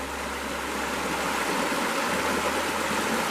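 Flowing stream water in a channel being surveyed on foot: a steady, close, full rushing and gurgling wash that continues without a break, with no talk over it.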